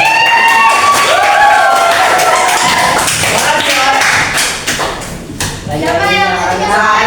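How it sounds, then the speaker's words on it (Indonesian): Students in a school guidance classroom clap together in a loud, dense burst of applause mixed with cheering and children's voices, with talk and chatter running over it. "Teman-teman bisa beri tepuk tangan untuk"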